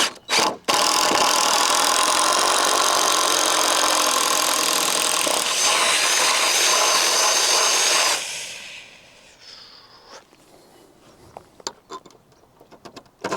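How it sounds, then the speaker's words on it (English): A power drill boring holes in timber for a simple wooden gate, one loud sustained whine lasting about eight seconds, close by, then cutting off into quiet handling clicks and knocks. "line everything else up and drill the holes for it"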